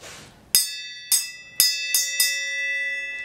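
A bright metallic bell is struck five times in an irregular rhythm, each strike ringing on with a long shimmering decay over a quiet background.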